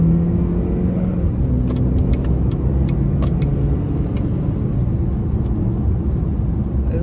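A Chevrolet Impala driving on the road gives a loud, steady interior engine and tire rumble with no breaks, and no voices are heard over it.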